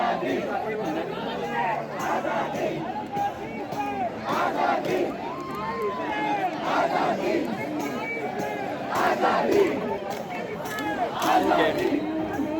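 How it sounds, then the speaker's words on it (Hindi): A large crowd fills Shivaji Park in Dadar at a Gen Z protest, with a dense roar of chants, shouts and chatter that swells and surges throughout. "काफ़ी भीड़ है यहाँ पे"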